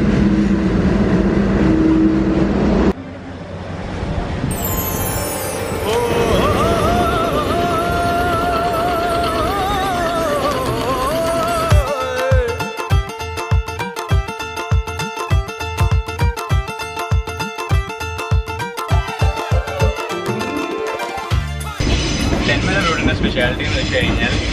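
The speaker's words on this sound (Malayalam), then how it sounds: "അപ്പോൾ നമ്മൾ ട്രെയിൻ വരുന്നുണ്ട്, അങ്ങ് പുറയെന്ന് വരുവാണ്." A train bound for Velankanni rolls into the station, its engine rumbling and horn sounding, followed by a long run of steady rhythmic wheel clatter as the coaches pass close by; a voice talks over the start.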